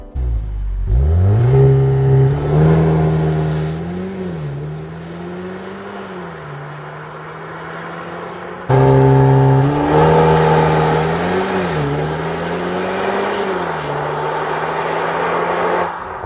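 A 2025 Cupra Formentor VZ accelerates hard and loud, its engine note climbing through several gear changes, then a second strong pull with rising revs, no speech.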